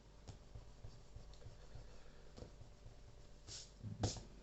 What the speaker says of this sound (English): So I'll erase this one.